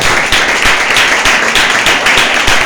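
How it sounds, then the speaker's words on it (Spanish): A church congregation claps loudly and in unison at a steady, quick beat, each sharp clap close and even, with no talking over the rhythm. "dale fuerte el aplauso"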